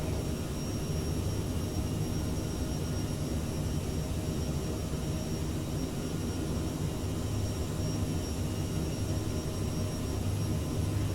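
Jet engines of a CRJ900 airliner roar steadily in flight, heard from a cabin seat behind the engines as a dense, constant broadband rumble with a faint whine above it.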